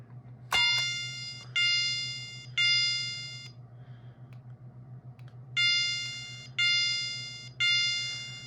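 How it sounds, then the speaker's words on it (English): A Gentex GOS fire alarm set to the code 3 chime tone sounds in repeated bursts, three in a row, a pause, then three more, each decaying, over a low steady hum; moderately quiet. "the tone that's selected to is code 3 chime, and it is pretty quiet"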